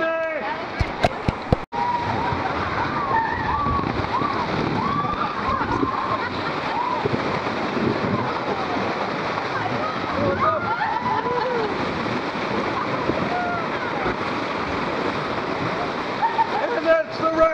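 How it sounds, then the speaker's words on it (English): Rushing water of river rapids in Ausable Chasm rolls as a steady, loud broadband roar from a boat or raft ride, with people shouting and cheering over it throughout. "And that's the rapids!"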